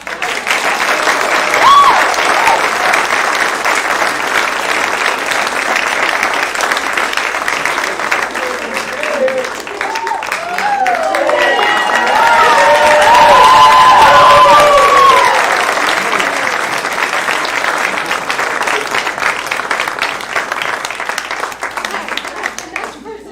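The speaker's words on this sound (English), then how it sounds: "let's give him a big round of applause" Sustained audience applause for a teacher at a high school spring play, steady clapping from a large crowd across the whole stretch with some cheering and voices mixed in near the middle.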